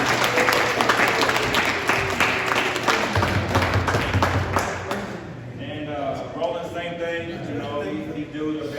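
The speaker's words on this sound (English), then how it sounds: "So a big round of applause for Mitch." Audience applause at a basketball awards banquet: a sustained crowd of clapping hands for several seconds that thins out toward the end, with a voice talking over it.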